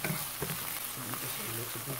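Red onion, ginger and garlic fry in a pan, a steady broadband sizzle with soft stirring scrapes, fairly quiet and continuous, a faint voice murmuring underneath.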